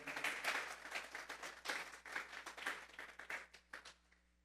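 A church congregation claps together, a dense, fairly quiet patter of many hands with a rhythmic pulse running for several seconds before fading out.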